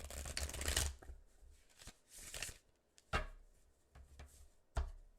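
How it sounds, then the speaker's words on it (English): Tarot cards are shuffled by hand in several short riffling bursts, crisp and close, separated by quiet pauses and soft taps of the deck. "So let me give this another shuffle. I know you hear it."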